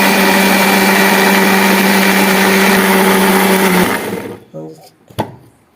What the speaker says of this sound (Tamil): மறுபடியும் ஒருத்தர் அரைக்கலாம்.